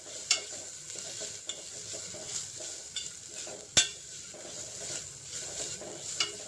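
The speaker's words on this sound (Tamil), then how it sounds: "ஒரு ஸ்பூன் இஞ்சி பூண்டு பேஸ்ட் சேர்த்துக்கிறோம். நல்லா வதக்கிக்கலாம்." Ginger garlic paste sautéing in a pan for mutton keema curry, a steady sizzle with occasional spatula taps and one sharp clack of metal on the pan, close and moderately loud.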